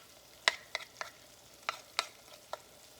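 Thick flour roux simmering in a pan on the stove, stirred with a utensil that knocks and scrapes in about seven sharp, separate strikes over a soft background hiss.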